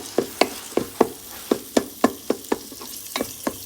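Shrimp in a hot pan, a steady sizzle broken by about a dozen quick scraping stirs at an even, brisk rhythm, close and clear, with no talk.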